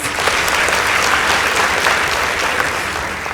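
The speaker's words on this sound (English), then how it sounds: "Please give them a round of applause." A high school debate audience gives a loud, full round of applause, a thick, sustained wash of many hands clapping that holds steady for over three seconds with no voices on top.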